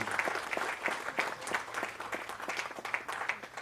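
An audience at an annual observance gathering applauds the performers, many hands clapping in a brisk, crackling burst that carries on steadily at moderate distance.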